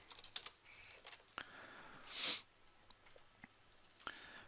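Keys tapped on a computer keyboard while entering a note for a virtual machine checkpoint, a quiet, irregular run of light clicks with a brief louder burst midway.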